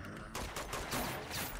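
Gunfire against guardians in the video game Uncharted 2, a dense fusillade of rapid shots layered with game noise, loud and continuous across the moment.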